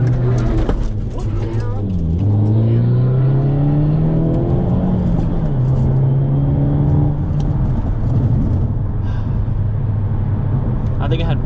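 Hyundai Elantra N or Honda Civic Type R pulling hard from a rolling start, engine note climbing through gears with a shift dip, loud and close, with people talking over it.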